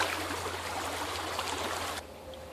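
Creek water flowing and trickling in a steady, close rush that drops off abruptly near the end, leaving a quieter background.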